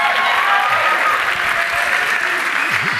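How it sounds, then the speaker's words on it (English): A roomful of people clapping at an arts and entertainment industry forum, a thick, even burst of applause held at full strength throughout, with no one speaking over it. "Give him a big hand of applause."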